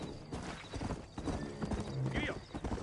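Horse hooves clip-clop steadily in the Western video game Red Dead Redemption as a rider sets off from town, with a brief whinny, a voice and a busy game soundscape around them.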